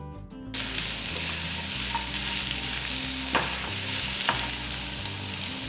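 Small-cut chopped yellow pumpkin sautés in a pan for pumpkin tomato chutney, producing a continuous dense sizzle that starts abruptly and holds steady, with a couple of sharp utensil taps, close by and without speech.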